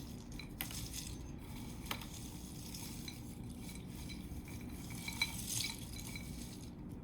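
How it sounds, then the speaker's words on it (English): Hands toss trail mix with warm almonds in a bowl, giving a quiet, continuous rustle and shuffle of nuts with a few faint clicks, soft and close with no voices. "we'll give it another big stir here with the hands"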